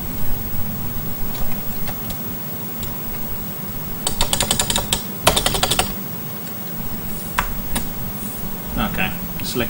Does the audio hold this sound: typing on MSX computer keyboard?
yes